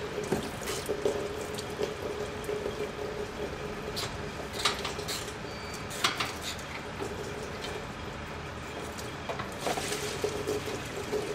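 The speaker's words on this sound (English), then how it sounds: "Now the fluid is almost completely quit draining from the pan at this angle." Transmission fluid drains and drips from a loosened transmission pan during a service, a faint steady trickle with occasional louder splashes and metallic knocks, no talk.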